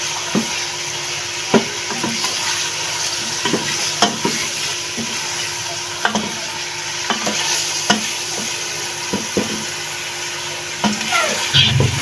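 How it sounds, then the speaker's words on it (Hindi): Chicken pieces frying in a pot for shaljam chicken, a constant soft sizzle with regular knocks and scrapes of a spoon stirring through them, close and without voices. "यहाँ हमारा चिकन जो है देखें माशाल्लाह कैसे खूबसूरत तरीके से फ्राई हो रहा है।"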